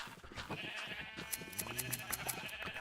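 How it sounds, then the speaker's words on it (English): Minecraft sheep bleat several times in a row, moderately close, over a steady bed of game ambience and background music with no talking. "We have a lot of sheep here too."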